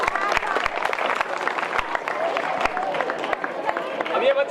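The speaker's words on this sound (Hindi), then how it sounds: "सौम्या गांव के लिए तालियां।" Audience clapping at a government senior secondary school annual function, scattered hand claps with crowd noise and voices talking over it, moderately loud and uneven.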